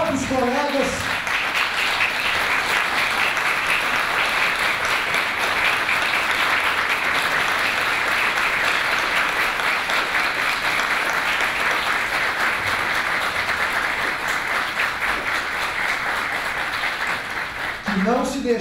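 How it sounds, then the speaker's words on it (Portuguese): Sustained standing ovation from a large audience at a Brazilian bar association's public redress ceremony, dense steady clapping filling the hall for about eighteen seconds, with brief speech at the very start and end. "Peço uma salva de palmas em pé para esses bravos colegas."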